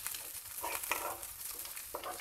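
Green chillies fry and stir in a pan, giving a soft, steady sizzle with a few scraping strokes, fairly quiet and with no talking over it.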